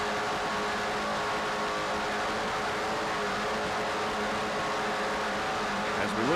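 Offshore powerboats race at the 1993 Montauk Grand Prix, their engines a steady, loud, continuous roar with a slight pitch sweep near the end as one passes close.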